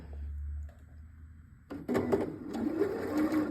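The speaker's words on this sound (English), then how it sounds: "And so then what I'll do is I'll just go ahead and start sewing that." A sewing machine stitches a quilt seam along diagonal seam tape. After a short quiet stretch it starts up with a steady, close mechanical whir and rapid needle clatter that runs on to the end.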